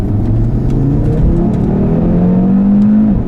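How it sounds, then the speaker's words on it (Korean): An Audi RS3 with a 400-horsepower five-cylinder engine and quattro all-wheel drive accelerates hard, its loud, close engine note climbing steadily in pitch through the gear before easing off at the end, with no talk. "가속도 진짜 좋아요. 가속 좋습니다."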